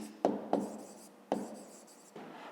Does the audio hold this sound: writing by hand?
yes